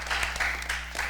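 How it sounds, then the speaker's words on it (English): Brief patter of audience applause for judges at a junior science quiz, fairly faint and distant, with a few sharper claps pulsing through. "you can give her a round of applause"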